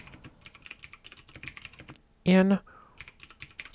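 Rapid clicking keystrokes on a TRS-80 Model I computer keyboard, close and steady, broken by a short loud beep in the middle.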